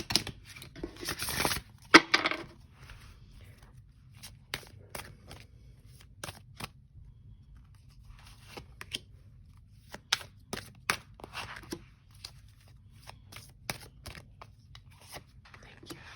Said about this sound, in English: I'm going to do a little shuffle here.